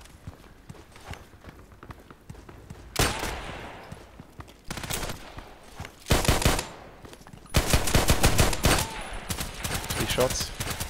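USP pistol fire in a shooting video game, arriving in several sharp, loud clusters of quick shots separated by quieter gaps.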